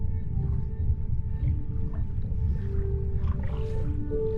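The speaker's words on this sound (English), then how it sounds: "The humpback whales that fill the oceans with their haunting song" Humpback whale song echoing through open ocean water: long, haunting tonal calls and rising moans, some sustained and some swooping, over a low rumbling undersea background.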